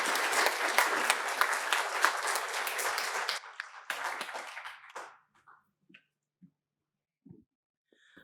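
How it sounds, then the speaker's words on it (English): Audience applause for a tattoo-traditions panel, loud and dense for about five seconds before quickly thinning into a few scattered late claps and then near silence. "Let's give them a big round of applause"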